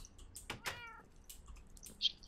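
Several cats meow in the Minecraft video game, a couple of short harmonic mews close together early on, then a faint click or chime, with no talking.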